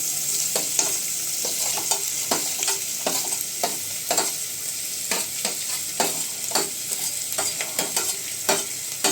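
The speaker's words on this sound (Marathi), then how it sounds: "कांदा घालते. कांदा आपण चांगला परतून घ्यायचा." Onion sizzles in a hot tempering with a pinch of asafoetida, a continuous close frying hiss marked by frequent sharp scrapes and clatters as it is stirred in the pan.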